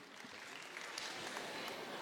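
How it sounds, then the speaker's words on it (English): A faint, dense patter of clapping from an audience, steady and continuous throughout, heard from a distance. "can I have a round of applause for Mr. Chen Kwang-Hung?"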